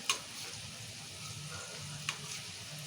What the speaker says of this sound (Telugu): అందుకే నేను కొంచెం నూనె పోసి కొంచెం కొంచెం దేవుతా